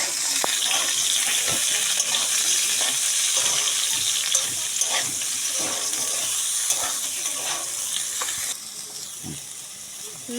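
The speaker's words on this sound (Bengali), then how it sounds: "বেগুন আর আলু কেটে রেখেছি, এটাকে ভেজে নেব।" Cut eggplant and potato frying in a pan, a loud, dense, continuous sizzle with scattered stirring knocks throughout, easing slightly toward the end.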